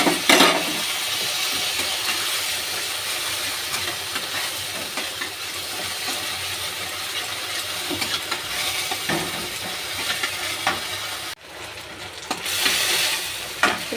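Ginger-garlic paste with a splash of water fries in a pan, a continuous loud hiss and sizzle broken by a few spatula scrapes and a brief dip near the end.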